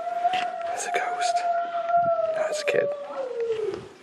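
Dog howling with long sustained wavering tones, steady and fairly loud, heard outdoors at the ruins of Cilgerran Castle, with brief clattering sounds around it.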